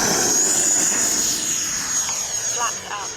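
E-flite Viper 90mm electric ducted-fan RC jet roaring on takeoff, a loud steady high-pitched whine close by that gradually fades and shifts as it climbs away, with a voice heard briefly near the end.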